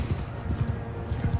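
Horse archers' hooves in the Bannerlord video game clop in a quick, uneven rhythm over a busy battle din, fairly close, with faint game noise underneath.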